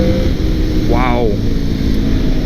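A 2002 Honda VFR800 motorcycle engine revs up and falls back in one quick blip over a steady running drone, close by, with wind noise in the background.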